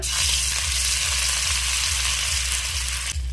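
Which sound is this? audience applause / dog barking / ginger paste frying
ginger paste frying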